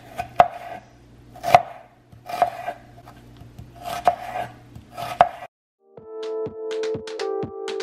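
A knife chops purple onion on a cutting board for pico de gallo, landing five heavy, spaced thuds, then a fast burst of quicker chops near the end, close and loud with no talking.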